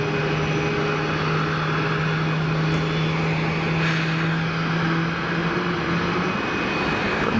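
Aircraft engines start up at Geneva Airport, a steady distant jet whine and rumble with a sustained tonal hum throughout.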